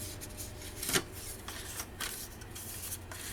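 A sheet of paper for a handmade boho-style mini scrapbooking album is picked up and handled, giving a few soft rustles and one sharper crinkle over quiet background noise.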